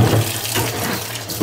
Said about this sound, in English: I'm going to wash the starch out from the potatoes